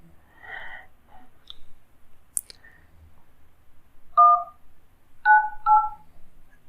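Keypad tones from the Pixel dialer on an Android 12 custom ROM running on a Redmi Note 7 Pro: three separate two-tone beeps in a quiet room, one followed by a pair close together, with faint clicks earlier.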